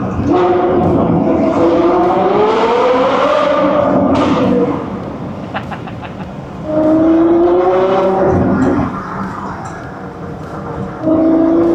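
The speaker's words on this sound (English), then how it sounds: "This car is one of the best sounding V12s, and it revs so fast, and downshifts are so crispy" A V12 car engine revs up quickly with rising, smooth howling tones, then crisply downshifts into first gear, dipping and surging again in loud, close bursts with brief lulls between.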